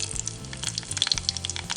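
Mustard seeds and dried red chillies fry in hot coconut oil in a pan, giving a close, steady crackling sizzle with sharp spits and pops throughout.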